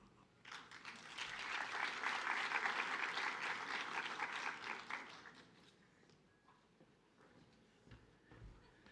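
Audience applause welcoming a keynote speaker, a dense burst of clapping that swells quickly, holds steady for several seconds, then thins out into scattered claps.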